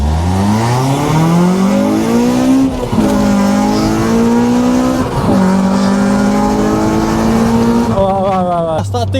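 An Audi Q3 TFSI with 230 bhp and an older EP3 Honda Civic Type R with 200 bhp accelerate hard side by side in a drag race. Their engine notes climb loudly and close, dipping briefly at two gear changes.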